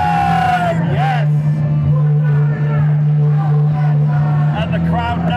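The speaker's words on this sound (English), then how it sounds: "If you did not hear us say it, you've definitely heard that audience." An audience at a UK wrestling show in an arena in Batley yells and cheers loudly throughout, with shouts and whoops over a constant crowd roar and a drone beneath.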